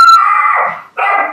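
A dog barks and howls loudly nearby, two drawn-out yelping cries in quick succession with a brief gap between them, the second slightly shorter.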